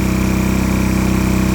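A Firman WHO3242 dual-fuel generator converted to run on natural gas hums loud and close, a steady, even engine drone under load that runs throughout without a break.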